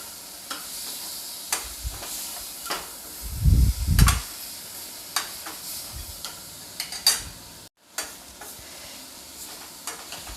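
Soaked chana dal roasting in a pan crackles with a light sizzle and repeated stirring scrapes, including one louder burst of clattering near the middle and a brief silent gap toward the end.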